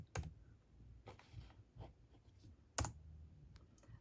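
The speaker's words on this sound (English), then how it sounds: "I am going to type acetate" Faint keystrokes on a computer keyboard, a few scattered taps with two sharper clicks, close and quiet with no voices.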